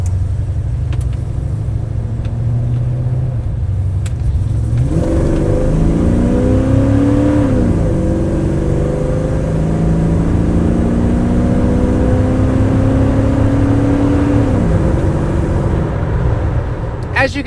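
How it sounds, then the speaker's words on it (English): A 1987 Chevrolet C10 Silverado with a stock throttle-body-injected 5.7 V8 accelerates hard, its engine note climbing through the gears with two clear upshifts, loud and steady from inside the cab. "we're gonna get in the throttle some, and we're gonna do a little heavier aggressive pull"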